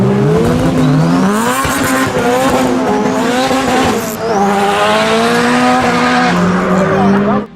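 A sixth-generation Honda Civic engine and exhaust rev loudly and continuously, climbing and dropping through several surges in pitch with a rasping, buzzy tone.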